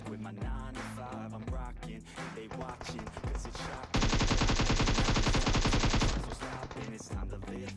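Gunfire in a battle royale mobile game rings out as rapid automatic bursts, a dense sustained volley of about two seconds after scattered earlier shots, over game ambience.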